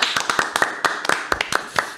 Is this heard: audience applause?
yes